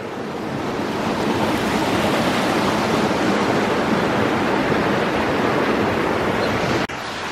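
Steady rushing water at a natural swimming hole along a nature walk, a continuous broadband wash like flowing or falling water, fairly loud and constant with no voices.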